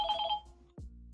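A telephone rings with a bright, repeating electronic bell tone for a moment, then cuts off, followed by a dull thump and a low steady hum in a quiet room.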